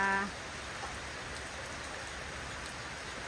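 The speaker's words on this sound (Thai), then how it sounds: "วันนี้อากาศฝนตก" Steady rain pours down in a continuous, even hiss, with no voices.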